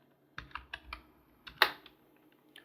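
Computer keyboard keys clatter in a quick irregular burst of about eight close, crisp keystrokes while Python code is typed, then quiet with a final soft tap.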